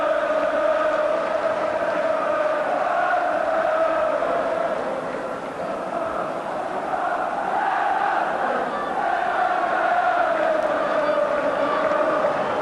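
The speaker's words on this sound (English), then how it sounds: "his ears ringing to the applause from the Kop" A big Kop crowd at Anfield during a 1988 Liverpool versus Tottenham Hotspur league match, a steady broad roar of applause and cheering that swells and holds throughout at a distance.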